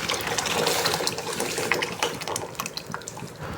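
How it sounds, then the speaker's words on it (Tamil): Thick, cooked mashed dal is poured into a pot of simmering sambar, making a continuous close, wet splashing and pouring sound throughout, with no talking. "இப்போ பருப்பு வந்து கடைஞ்சி வச்சுருக்கு இதில் ஊற்றிக்கலாம்"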